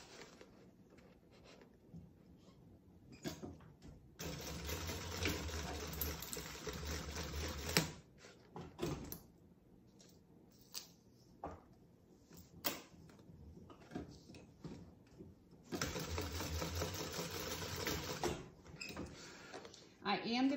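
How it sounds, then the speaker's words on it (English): A sewing machine stitches a half inch seam on a Dooney & Bourke inspired crossbody bag, running in two steady whirring bursts of several seconds each, separated by quiet handling noises. "I'm just going to sew a half inch seam allowance right here."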